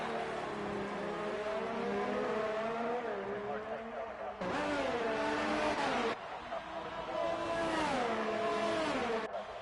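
A Formula 2 race car screams down the long front straight at the Azerbaijan circuit, its engine note climbing through gear changes with brief shift gaps, loud and close, with a commentator talking over it.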